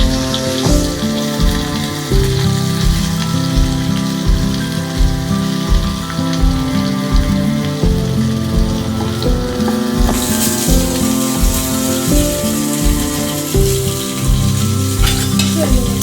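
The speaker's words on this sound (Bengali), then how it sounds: "তেলটা গরম হয়ে গেছে, আমি পোস্ত রান্নাটা দিয়ে সুন্দর করে ভেজে দেবো। আর ফুলকপি একসাথেই দিয়ে দেবো" A poppy seed mixture and cauliflower fry together in hot oil, filling the space with a loud, dense, continuous crackling sizzle that sounds almost like steady rain.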